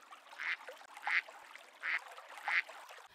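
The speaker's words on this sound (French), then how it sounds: "On a quasiment toutes les espèces de canards qui sont présentes sur l'étang" Ducks on a pond in the Sologne countryside, four quacking calls at a steady pace, faint and somewhat distant with a quiet outdoor background.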